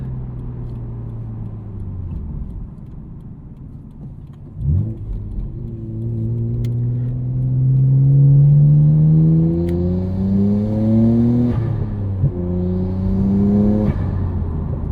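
A 1999 Nissan Skyline R34 GT-R heard from inside the cabin with windows up, its engine and intake note rising steadily through several gear pulls with brief shift breaks, loud and continuous with no talk.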